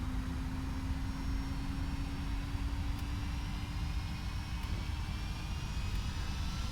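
Boeing 767 jet engines spooling up to full takeoff thrust in the X-Plane simulator, a steady broad roar with a rising whine held evenly throughout, no voices present.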